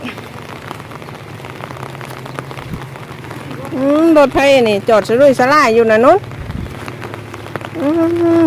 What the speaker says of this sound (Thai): ฝนตกแดดออก